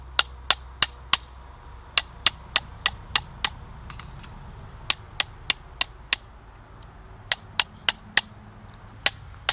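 A metal magazine base pad is beaten repeatedly against a red dot sight, producing sharp, close metallic knocks in quick bursts of three to five strikes separated by short pauses, with no talk.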